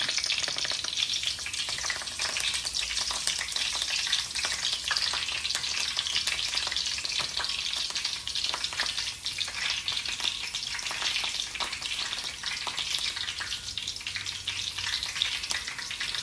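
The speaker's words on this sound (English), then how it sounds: "here the garlic is starting to fry, releasing flavors" Garlic fries in hot oil in a pan with a steady, dense sizzle and crackle throughout, loud and close, with no talking.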